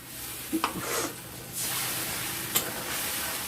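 Fish and bori curry sautéing in a pan with spice paste just added, a loud hiss and sizzle that rises after a few clanks of the spoon, continuing close and steady.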